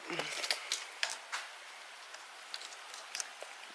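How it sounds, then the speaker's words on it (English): Light rain patters in the background, with scattered sharp drops tapping nearby against a soft, steady hiss. "Raining again."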